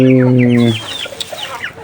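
A Rhode Island Red hen gives one drawn-out, tonal squawk, then a rapid run of short, close clucks.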